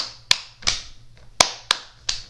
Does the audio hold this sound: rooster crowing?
no